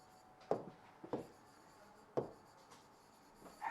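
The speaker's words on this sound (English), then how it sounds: "So I am writing this point here." Writing on a board during a soil mechanics lesson, with several soft, scattered strokes and taps at irregular intervals against a quiet room background.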